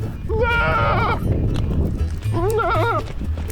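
Kiko goats bleat in two wavering calls, one early and one later, close and loud over a steady low rumble outdoors at Superstition Mountains in Arizona.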